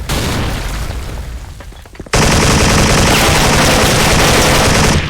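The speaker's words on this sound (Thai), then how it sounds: "วันนี้อยู่กับ Special Force กับปืนที่มีชื่อว่า G3A3 นะครับ" G3A3 rifle firing in the Special Force shooter game: some scattered shots, then a sudden sustained burst of rapid automatic fire that stays loud and dense for about three seconds, close and overwhelming, with no talk.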